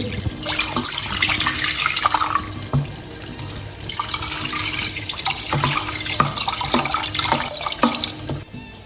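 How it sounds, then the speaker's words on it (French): Water runs and splashes into a cooking pot holding tomato paste fried in olive oil with spices, a steady pouring wash with a few drips and clinks, close and fairly loud, no voices. "Je rajoute 800 g d'eau, 800 ml si vous voulez, c'est mieux."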